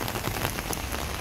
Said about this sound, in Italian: Ecco a voi quando piove a Napoli